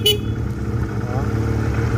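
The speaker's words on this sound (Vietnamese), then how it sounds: "Xe đang nổ máy đôi." A Rebel 170 motorcycle engine idles nearby with a steady, low, throbbing rumble that holds evenly, along with a brief high chirp at the very start.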